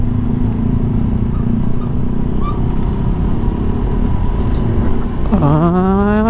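A 2020 Honda Vario 125 scooter rides along with a steady engine drone and road noise, close and loud, the engine pitch rising as it accelerates near the end.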